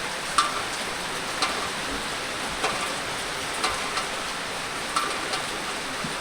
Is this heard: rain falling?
yes